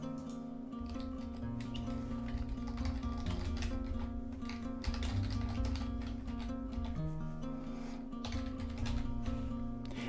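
Address details are typed on a computer keyboard, quick clusters of soft key taps and clicks with short pauses between bursts against a low background hum.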